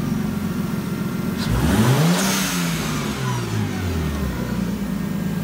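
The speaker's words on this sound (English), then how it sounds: "Start her up. Rev it." A Nissan 240SX with an RB20DET engine runs and revs up once, the pitch sweeping up and falling back over a steady loud idle, close by and alone.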